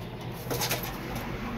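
Pigeons outdoors give soft, faint coos over a steady background hum, with a slightly louder burst in the middle of the short stretch.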